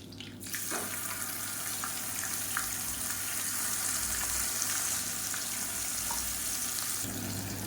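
Water pours steadily into a freshly rinsed mixer jar in a South Indian kitchen, a continuous close trickling splash lasting several seconds, starting after a brief pause and ending with a slight change near the finish.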